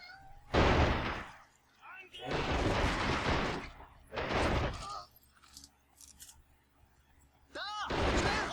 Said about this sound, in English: I need to let my cat out.